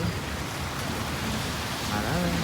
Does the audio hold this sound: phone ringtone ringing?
no